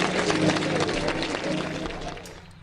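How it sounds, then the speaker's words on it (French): A congregation applauds inside a church, a dense wash of clapping that starts loud and gradually thins and fades toward the end, with a faint murmur of voices underneath. "Et les gens applaudissent."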